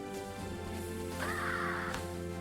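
A crow gives a single harsh, drawn-out caw, loud and close, over a steady tonal musical background.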